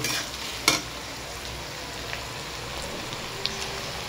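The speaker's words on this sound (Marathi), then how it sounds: "कांद्याला चांगला एकदम खरपूस भाजून घेऊ कांद्याला" Onions frying in a pan for a Mumbai-style shev bhaji, browning to a pinkish crisp: a steady, close sizzle throughout, with one sharp scrape or clink of a spatula early on and a few faint ticks later.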